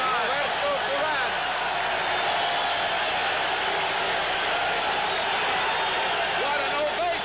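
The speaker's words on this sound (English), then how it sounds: "What an ovation. Listen to this crowd." A packed boxing arena roars in ovation as Roberto Duran enters the ring for his fight with Sugar Ray Leonard, a dense, continuous wall of cheering with drums beating under it.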